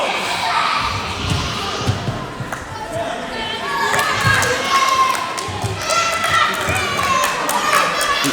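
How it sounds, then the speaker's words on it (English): A wrestler is slammed down onto the mat during a WrestleForce Undisputed Championship match in Aylesbury, a thud under the steady roar of a lively indoor crowd that keeps cheering and shouting throughout. "And you heard that. That has sent Jack Landers to the ground."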